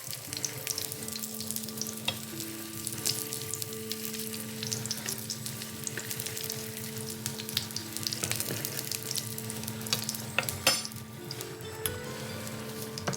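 Onions sizzle and roast in a pan, a soft continuous frying hiss under occasional clinks and stirring scrapes, fairly quiet and with no talking.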